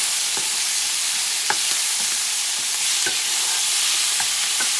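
Black-eyed peas and duck giblets being stirred in a hot pan, with a spoon scraping in irregular strokes over a steady, close sizzle and no talk.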